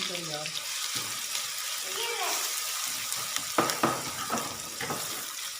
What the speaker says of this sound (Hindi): उसी पैन में 2 टेबल स्पून ऑयल शामिल किया है। 2 अदद प्याज चॉप की हुई शामिल करूँगा।